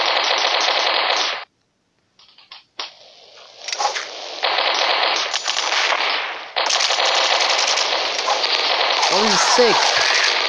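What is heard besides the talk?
gunfire in the video game Mini Militia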